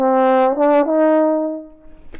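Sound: trombone playing ominous melodic theme from Holst's The Planets

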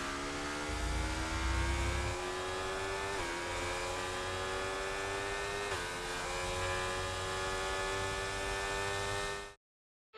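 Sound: race cars approaching the finish line in video game F1 24

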